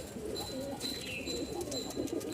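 A male Giribaz pigeon coos repeatedly at a nearby female in a series of soft, low, throaty calls, with faint background chirps and noise.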